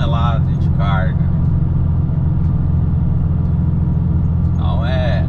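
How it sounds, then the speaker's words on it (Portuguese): A red NH truck hauling a heavy load of about 29,500 tonnes descends a mountain road on engine brake, giving a steady, loud low rumble throughout, with a voice briefly heard at the start and end. "aqui descendo o freio motor"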